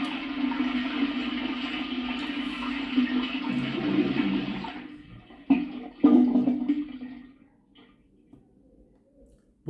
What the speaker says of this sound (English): It's the sound of a toilet